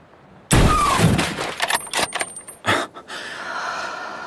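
A single sharp, loud sniper rifle shot in a video game cracks out and rings off, followed by a faint whistling tail and several quick metallic clicks and clatters.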